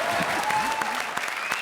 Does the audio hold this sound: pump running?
no